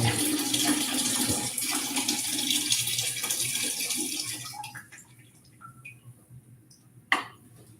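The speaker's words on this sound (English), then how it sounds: "And you pour down the drain." Used film developing chemical is poured down a drain, a loud rushing gush of liquid that runs for about four seconds, then cuts off into quiet broken by small drips and one sharp knock.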